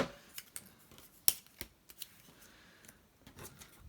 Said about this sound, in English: I don't want it as long as that, so I'm just going to trim that down.